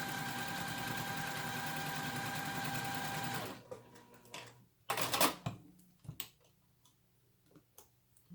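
A sewing machine runs steadily for about three and a half seconds, stitching a quarter-inch seam to join nested quilt block pieces. It then stops, leaving quiet handling clicks and fabric rustles.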